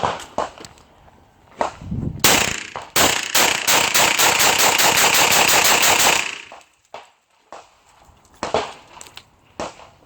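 A rifle firing a rapid burst of shots after a mud test, loud and close, each crack ringing with echo for several seconds before stopping, followed by handling clatter.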